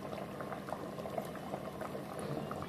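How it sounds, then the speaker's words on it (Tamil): A pot of water with rice for vegetable biryani bubbles at a steady simmer, dense small pops and gurgles of boiling water continuing quietly and evenly without any voices. "அந்த அரிசியோட சேர்ந்து மறுபடியும் நல்லா கொதிக்கட்டும்."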